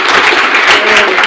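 A live studio audience breaks into steady, dense applause, loud and close, with no talking over it.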